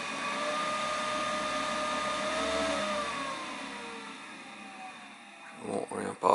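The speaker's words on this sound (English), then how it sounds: "this motor's ramping up, ramping down" Inducer motor on a 90+ gas furnace with a bad pressure switch, a sustained whirring hum that rises and then winds down, followed by a few soft knocks near the end.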